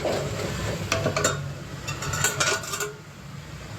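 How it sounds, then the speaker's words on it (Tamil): A metal ladle clinks against a pan of chicken pepper fry, then a lid settles onto the pan with a few sharp metallic clatters and taps over a low background hum. "கரண்டியை ரிமூவ் பண்ணிவிட்டு இப்படி க்ளோஸ் பண்ணி வச்சுட்டேன்."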